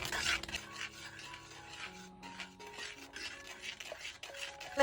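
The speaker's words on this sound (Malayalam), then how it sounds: "കഷായം ആകുമ്പോൾ കൈവിടാതെ ഇങ്ങനെ ഇളക്കി കൊടുക്കണം കേട്ടോ" Mango decoction (kashayam) being stirred steadily in a pot, a soft continuous scraping and rubbing of the spoon against the vessel, close and fairly quiet, with faint tonal kitchen background and no talking.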